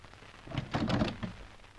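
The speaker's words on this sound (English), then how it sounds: "Right, I'll open the door." A single door opens with a brief clunk and rattle of the latch, fairly quiet and close, with nothing else around it.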